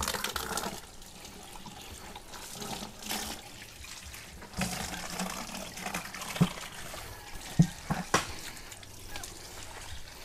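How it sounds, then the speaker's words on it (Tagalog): Water runs from a tap to fill a container, a soft continuous trickle and splash with a few louder knocks and bumps toward the end. "Ay, pupunuin mo ng tubig to."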